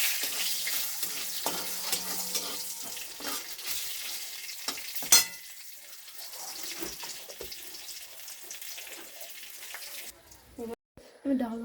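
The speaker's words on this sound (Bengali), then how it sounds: "অরহর ডালে হিং আর ঘি, হিং দিলাম, একটুখানি গোটা জিরে, তেজপাতা, শুকনো লঙ্কা, কাঁচা লঙ্কা" Asafoetida, cumin, bay leaf and dried and green chillies tempering in ghee, with a fading sizzle under occasional clinks and a louder knock midway, followed by quieter handling sounds near the end.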